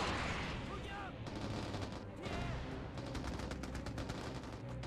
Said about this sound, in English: Pretty good explosions.